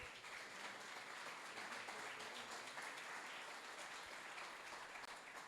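A church congregation applauding during a worship service, an even, sustained patter of many hands clapping together. It is faint and distant and keeps going throughout.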